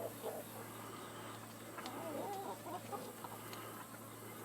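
A broody hen sits on her own eggs in a nest box and gives a few soft, faint clucks over a steady background hum.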